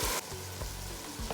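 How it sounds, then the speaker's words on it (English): Rice frying in a pot with onions, a dense continuous sizzle with a few low stirring thumps, close and steady without speech. "I like to fry the rice up because it gives it a chance for all"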